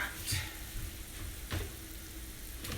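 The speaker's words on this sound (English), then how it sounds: "we're going to let this cook for just a minute or two because we're cooking the flour out of it" Flour and butter roux for a shrimp Alfredo sauce sizzles and crackles softly in a pan, a steady close frying hiss with occasional stirring clicks.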